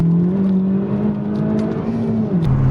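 A Honda car engine hums at a steady, high pitch, revved toward its limit, rising slightly before the revs drop near the end; close and continuous.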